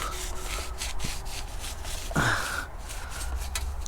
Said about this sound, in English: Now I'm gonna need to remove the residuals from the old gasket material